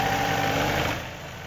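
A bucket-equipped machine working to lift drywall at a burned-down site runs its engine loud and close, a steady rumbling drone that eases slightly near the end, with no voices.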